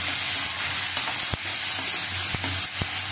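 Coriander sizzling as it fries in a pan, a steady close hiss broken by a few sharp utensil taps.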